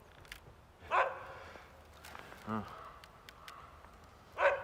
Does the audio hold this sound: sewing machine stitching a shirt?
no